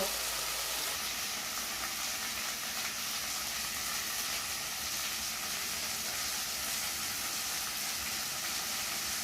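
Peeled, boiled taro (kochu) pieces fry in hot oil with cumin, producing a loud, dense, unbroken hiss of sizzling that holds steady from start to finish.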